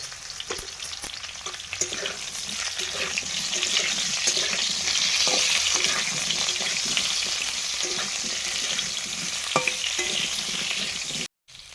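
Potato and pointed gourd pieces fry in a pan of oil with black cumin seeds, producing a loud, close, continuous sizzle broken by a few stirring clicks before the sound cuts off briefly near the end.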